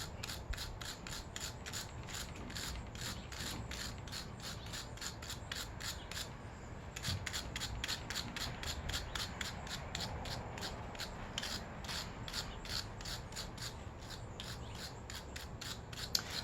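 Carbon buildup scraped off Echo string trimmer parts makes a steady run of quiet, rhythmic rasping strokes, close and even, with a short pause partway through.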